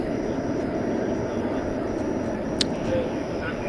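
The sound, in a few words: American Airlines Airbus A321 arriving at DFW airport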